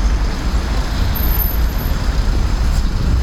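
Steady, loud street traffic near a pedestrian crossing where minibuses pull up, a continuous rumbling wash of engines and tires with no distinct pauses and no talk.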